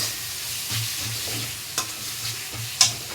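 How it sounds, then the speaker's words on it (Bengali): Bottle gourd sautéing in fried spice paste sizzles softly and steadily while a utensil scrapes and stirs it, with a few sharper clinks; close by, no talking. "লাউগুলো সব দিয়ে দেবো। দিয়ে মশলাতে ভালো করে কষে নেব।"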